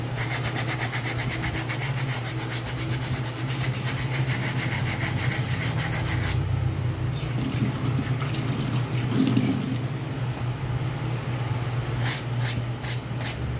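Wet brush scrubbing a dirty shoe with bar detergent, a steady close rasping rub with repeated strokes and watery swishes, no talking.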